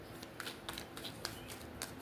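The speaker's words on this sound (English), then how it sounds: "Let's shuffle this spread." Tarot cards being shuffled by hand, a soft papery riffle with scattered light flicks and taps at a close, quiet level, no talking.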